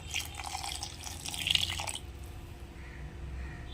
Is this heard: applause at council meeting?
no